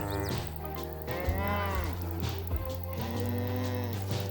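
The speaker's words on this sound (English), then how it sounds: "Excuse me, cow. How are you?" A cow in the Minecraft Java video game moos a few times, with drawn-out low lowing calls over a steady hum of game background sound.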